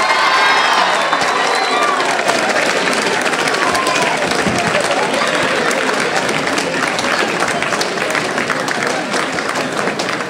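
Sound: students applauding and cheering

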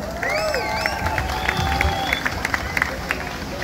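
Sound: applause for the groom at a wedding

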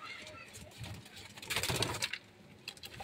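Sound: siraji pigeons cooing

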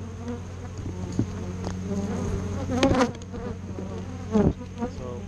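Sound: honey bees buzzing at an opened hive super

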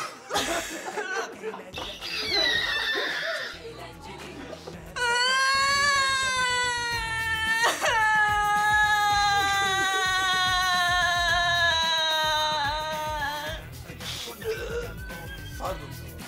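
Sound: loud crying

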